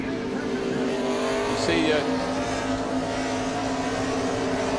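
A race car at Infineon Raceway in 2006 short shifts, its engine droning loudly with a brief shift in pitch as it grabs a higher gear, under a commentator's talk.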